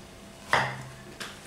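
A knife cuts through a giant mango, making two sharp chopping knocks against a board about half a second apart. The knocks are close and fairly loud over a quiet room.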